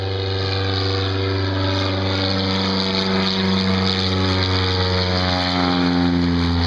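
A float plane's propeller engine drones loudly and steadily nearby, its pitch slowly shifting as it holds a strong, continuous tone with no talk.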